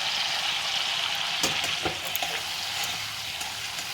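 Garam masala frying in hot mustard oil with a little sugar, a steady close sizzle with a few scraping stir clicks partway through.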